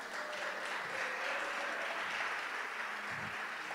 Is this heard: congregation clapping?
yes